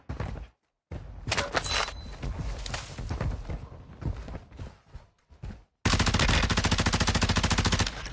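Video game gunfire: scattered shots and bursts crackle loudly, then a sustained rapid machine-gun volley rattles evenly to the end.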